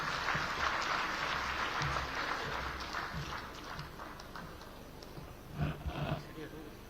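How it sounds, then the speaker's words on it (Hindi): Applause fills a hall of business people at a Jaipur industry event as a minister is welcomed to the stage, a broad muffled clapping that swells, fades slightly and surges again, with talk mixed in. "वाणिज्य मंत्री कर्नल राज्यवर्धन राठौड़ जी को आप सभी की तालियों की गूंज के बीच उद्बोधन के लिए सादर आमंत्रित करती हूं।"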